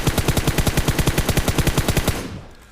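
In PUBG Mobile, an automatic weapon fires a rapid, evenly spaced burst of about twenty loud, close shots at a target on a training range, then stops and leaves a brief fading echo.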